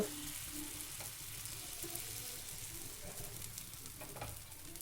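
Semolina batter spread thin like a roti on a hot pan gives off a soft, continuous sizzling hiss with faint stirring and scraping throughout.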